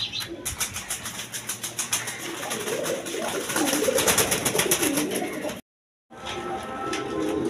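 Lotan pigeons at a bird market coo in soft, repeated rolling calls, close by over a light background murmur, with a brief silent gap near the end.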